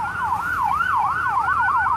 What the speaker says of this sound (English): we're at a hospital right now, hence the ambulance